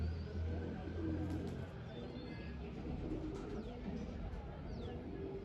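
Pigeons coo softly in a home loft, repeated throaty calls sitting over a constant low background hum with faint voices nearby.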